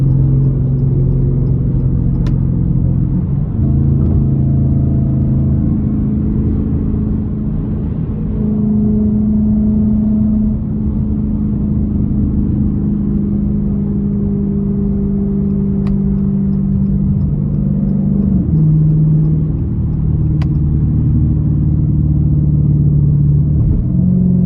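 Dodge Challenger R/T with a straight-pipe exhaust, driven at night on bumpy, curving roads; a loud, steady low engine rumble with gear-change dips and rising revs, continuous throughout with no talk.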